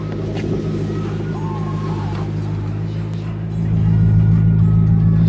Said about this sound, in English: Has the dual exhaust and a nice tone to it as well.